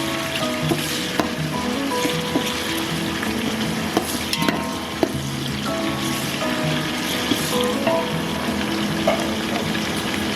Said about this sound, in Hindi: जी टमाटर मैंने डाल दिए हैं। अब इसे अच्छी तरह मिक्स करेंगे।